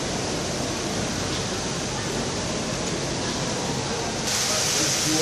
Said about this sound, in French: Alors, je grimpe et là, il y a la cascade, là.